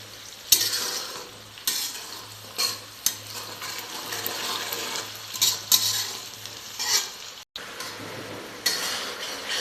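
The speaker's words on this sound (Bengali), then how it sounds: "এখন পেঁয়াজটা ভাজি করা হচ্ছে" Onions frying in a pan for a chicken curry, with steady sizzling and repeated scraping stirs of a utensil against the pan. The sound is close, with no talking over it.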